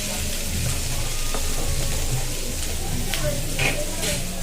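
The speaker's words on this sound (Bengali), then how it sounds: "আর ডালে ফোড়ন দিয়েছি কি জানো" Mustard seed and dried chilli tempering for tomato dal sizzling steadily in hot oil, a continuous close frying hiss with faint stirring and small pops throughout.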